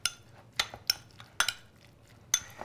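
A utensil clinks against a bowl in a handful of sharp, separate taps while salmon tartare is mixed with olive oil and chives, close by and otherwise quiet.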